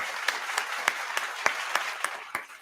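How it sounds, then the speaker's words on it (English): Claps ring out in a steady rhythm on a gaming podcast, evenly spaced about three per second, over a soft wash of background noise and no one talking. "we're going to give him a clap."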